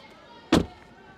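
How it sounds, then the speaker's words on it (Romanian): A single sharp thud of a Tesla Model 3 car door shutting, a 2024 or 2021 model in a door sound test, close and brief against a quiet background. "Testul de sunet la uși."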